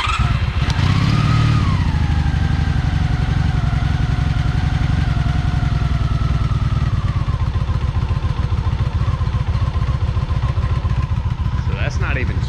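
A Honda Magna VF750 V4 motorcycle engine runs with a loud, steady rapid idle throb close by after a brief rev, continuing unbroken throughout.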